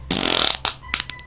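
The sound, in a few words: fart sound effect recording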